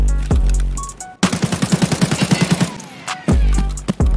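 AK-74M rifle fire in the video game Escape from Tarkov: loud single shots, then a rapid sustained automatic burst of about fifteen rounds, followed by more sharp close shots.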